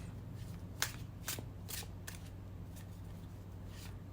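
Tarot cards being shuffled and drawn give a handful of short crisp riffles and flicks, soft and close over a low steady hum, with no talk.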